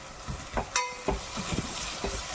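Sliced onions sauté with salt in a pressure cooker, a soft continuous sizzle broken by occasional stirring scrapes and clinks, close and fairly quiet with no talk.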